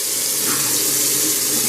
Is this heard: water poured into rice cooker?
yes